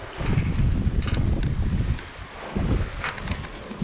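A sailboat under sail off the Croatian coast near Korcula and Hvar, its main sheeted out in about 10 knots of wind, with steady wind buffeting the microphone and water rushing past the hull throughout.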